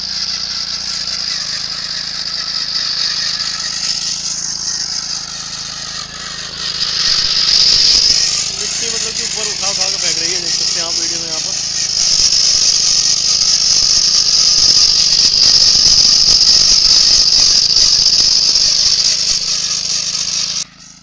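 Viraat 7hp power tiller tilling ridged furrows in a field, a loud continuous engine drone with rattling and high whining tones, steady throughout and close by.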